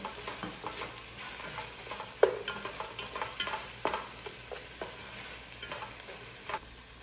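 A spicy mix being stirred into food in a pan, a faint continuous sizzle with scattered light scrapes and clicks of the utensil, no talking.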